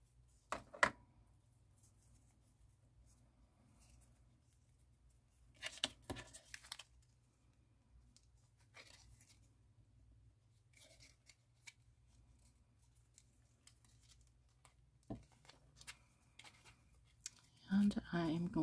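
Scissors snip through a blue ribbon during a craft project, giving faint, sparse cuts and small handling rustles in a quiet room, with a few louder clicks and crinkles near the end.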